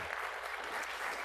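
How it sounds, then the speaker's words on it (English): A lecture audience gives a brief round of applause for a university research vice president, heard as soft, even clapping that is fairly faint and lasts only a moment. "Give him a round of applause,"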